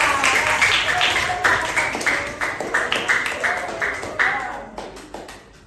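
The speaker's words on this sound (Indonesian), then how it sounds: "Berikan tepuk tangan kepada Renata." Classroom applause from a class of seventh-grade students, a dense patter of many hands clapping steadily for several seconds and tapering off near the end, with a few voices mixed in underneath.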